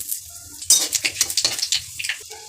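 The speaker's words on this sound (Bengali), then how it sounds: "তেল গরম হয়ে গেছে তেজপাতা দিয়ে দেবো পাঁচফোড়ন দিয়ে দেবো" Bay leaf and five-spice (panch phoron) dropped into hot oil while cooking a bottle gourd and dried fish curry, giving a close, brief burst of crackling sizzle with scattered metal clinks of a spoon and pan.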